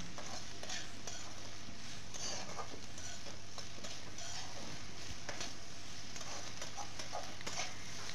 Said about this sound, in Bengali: বেগুনগুলোকে পেঁয়াজের সঙ্গে দিয়ে দিচ্ছি একসঙ্গে ভালো করে পেঁয়াজের সঙ্গে এগুলোকে আমি ভেজে নিচ্ছি